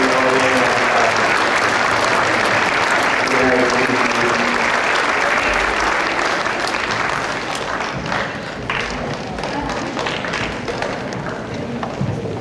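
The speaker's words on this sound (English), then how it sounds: "Let's give these students a round of applause." Sustained applause from an audience at a school academic awards ceremony, dense steady clapping throughout that thins slightly toward the end, with faint voices beneath.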